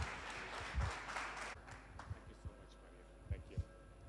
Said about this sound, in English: let's give Mariam another big round of applause